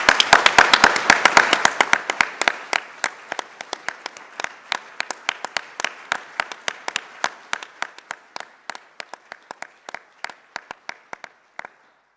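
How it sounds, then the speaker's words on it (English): Round of applause from attendees at a formal church-style meeting session: a burst of many hands clapping that gradually thins into fewer, slower claps and fades out near the end. "We ought to thank Helen, particularly with a round of applause."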